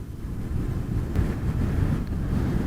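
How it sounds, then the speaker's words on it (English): Steady low rumbling wind buffeting in a motorcycle helmet while riding a Super Soco TC Max electric motorcycle, continuous and fairly loud throughout with no voices. "Certainly notice or aware more of the wind noise in my helmet."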